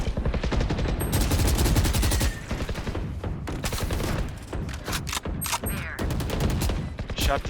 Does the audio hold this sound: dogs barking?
no